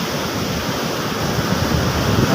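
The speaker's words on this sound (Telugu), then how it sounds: "చూడండి ఎలా ఎగురుతుంది వాటర్" Sea water surges and splashes against the rocks at RK Beach in Visakhapatnam, a dense roaring wash of surf mixed with gusty wind noise on the microphone, loud and continuous throughout.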